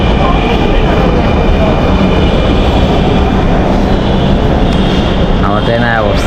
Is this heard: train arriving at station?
yes